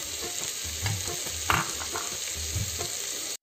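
Onion, ginger-garlic paste and green chilli frying in a pan for a chicken roast; a close, steady sizzle with intermittent scraping stirs and a sharper clack near the middle.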